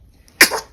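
A single sharp sneeze bursts out close by, a brief loud explosive blast that tails off quickly into quiet in a home with a newborn.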